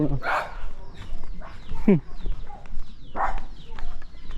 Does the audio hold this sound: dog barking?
yes